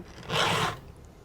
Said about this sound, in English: I'll put a quick file on it.